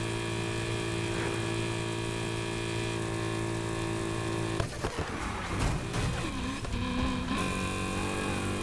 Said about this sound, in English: with the Grand National, the Buick, it's a pretty good car, and it sounds pretty good for what it is